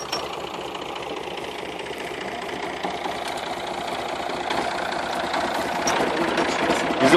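A Massey Ferguson 135 tractor engine runs with a steady close diesel clatter and knock that holds evenly throughout and swells slightly toward the end.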